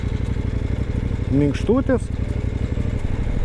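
A KOVE 800 Adventure motorcycle engine ticks over at low revs, a steady rumbling drone with someone talking briefly over it.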